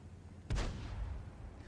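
A single gunshot from a tank in a video game booms once, fairly faint, and its rumble fades over about a second against a quiet background.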